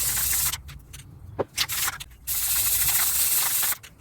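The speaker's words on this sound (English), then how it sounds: "Oh, the sound of spray paint." A spray paint can hisses in two long bursts, with a short pause between them filled with light rattling and handling noises.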